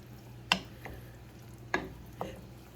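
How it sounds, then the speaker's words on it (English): A spoon stirs brown sugar into baked beans with ground beef in a single pan, giving a few separate scraping strokes over a low steady background hum, near and moderately loud, with no talking. "And you're going to stir that in as well."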